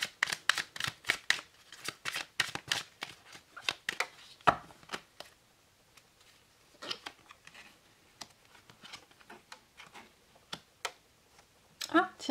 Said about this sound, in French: on va faire un petit tirage en trois cartes avec le Merry Christmas